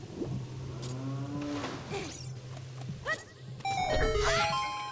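A cow in Zelda Ocarina of Time Master Quest gives short, mangled moos over a steady game hum, followed by bright chiming tones near the end.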